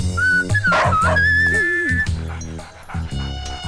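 A dog barks, yips and whimpers up close, with high whining cries and short barks mixed together over a busy background.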